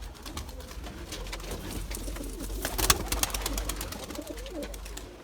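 A pigeon coos repeatedly in a garden, soft rolling calls close by over a low steady background rumble, with wing flutters and light rustles scattered through.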